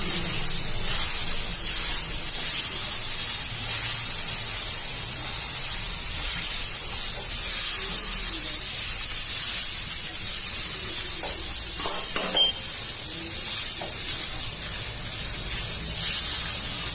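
Sabudana khichdi with red chilli and peanuts sizzling and being stirred in a pan, a steady close frying hiss with occasional scraping stirs, no voices.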